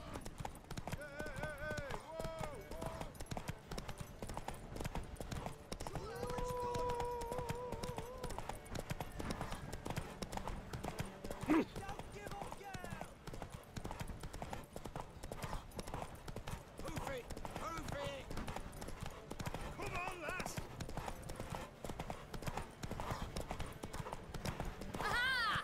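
Hooves clip-clop and gallop in a steady rhythm as a horse runs in The Witcher 3, joined by brief whinnies, with voices talking over the hoofbeats throughout.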